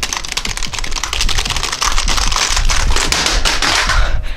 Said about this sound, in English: I actually need to get my trusty hacking keyboard to type out the name of the game for me